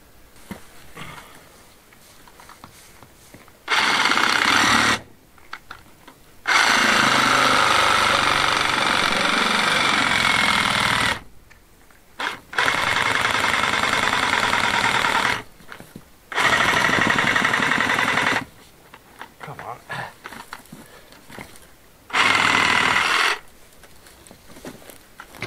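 A reciprocating saw cuts through material during a solar panel upgrade on an off-grid farm in Spain, running in several loud, harsh bursts of a few seconds each, separated by pauses.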